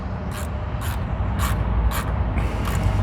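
A brand-new ratchet working on a very tight oil drain plug during an oil change, giving about six short, sharp clicking bursts in an uneven rhythm, close and fairly loud over a low rumbling background.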